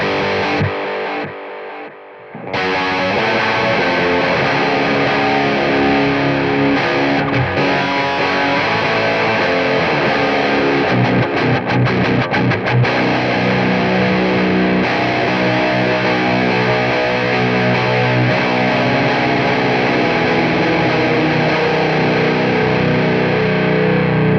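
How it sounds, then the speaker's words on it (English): Heavily distorted, low-tuned electric guitar through a Quad Cortex with high gain and delay, playing loud sustained chords with echoing trails, after a brief pause near the start. "with this much distortion, this much gain, especially playing this low of a guitar, I want my delay out of the way"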